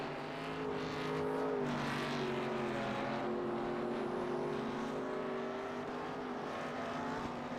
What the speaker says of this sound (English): the 33 of Brian Miskell almost missing the bus stop there